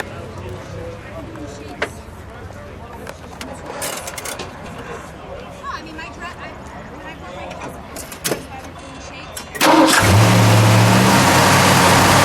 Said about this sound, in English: Ken, let's fire it up, shall we? Let's hear it idle, and then we'll give it a little rev